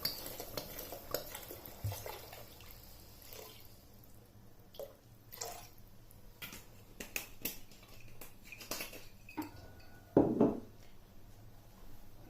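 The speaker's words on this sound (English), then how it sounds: "then you want to add in your brandy" Brandy goes into dissolved sugar syrup in a pan, with quiet clinks of a utensil and pan, faint drips and stirring taps, and a sharper clatter near the end. The sounds are close and sparse, with no talking.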